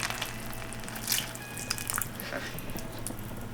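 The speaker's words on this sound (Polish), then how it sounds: "No i tak wszystko teraz to tutaj muszę podlać co mam" Water pours gently while potted plants, including sea buckthorn, are watered at home, a faint continuous trickle with a few soft splashes and drips.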